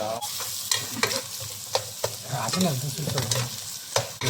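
Meat frying for a curry is stirred in a pan, with a constant sizzle beneath repeated close scraping strokes of the spoon at an uneven pace.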